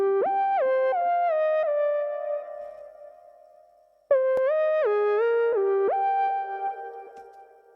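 Omnisphere Genesis 2600 lead synth patch playing a gliding, sliding melodic line, bright and sustained, pausing briefly midway before resuming with more pitch bends, heard alone without voices.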